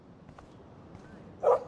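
A dog in the Life Is Strange video game gives a single short bark near the end after quiet ambience.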